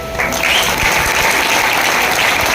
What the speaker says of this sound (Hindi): आप बिंदास खोलकर ताली बजाए।